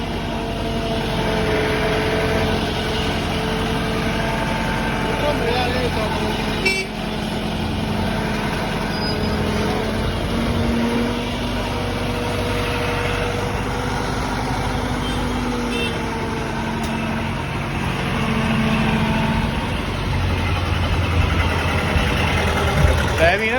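A John Deere tractor engine idles at a scrap market in Patiala, a steady, even rumbling drone that runs throughout while people talk over it.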